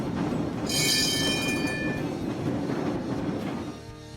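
A streetcar running on rails, with a steady heavy rolling rumble and a high metallic wheel squeal that rises and then fades as it passes close by.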